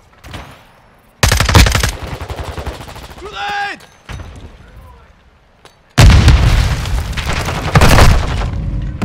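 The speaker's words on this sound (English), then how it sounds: "Grenade!" Grenade explosion and gunfire in the video game Call of Duty Modern Warfare II, heavy booms and rapid bursts of shots loud and close, with a shouted voice in the middle.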